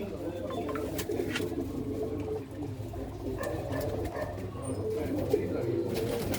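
A female pigeon held by a pigeon keeper in Hoshiarpur, Punjab, coos in low, rolling murmurs that continue steadily over a busy, noisy background.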